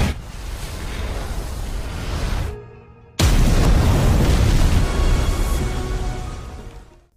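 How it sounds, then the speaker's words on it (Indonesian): A loud, rumbling explosion from the animated series Battle Through the Heavens roars broadband for a couple of seconds, briefly cuts to quiet, then a second massive blast surges and slowly fades out. "ketika teknik leluhur Xiaoshuan meledak"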